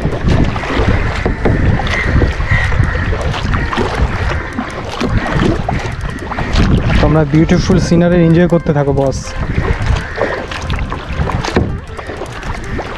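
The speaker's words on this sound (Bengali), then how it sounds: "আর আমি এখানে একা কায়াকিং করছি।" A kayak moves along a Kerala river past hotels and houses, with steady water and wind noise running throughout beneath someone talking, and a brief burst of singing midway.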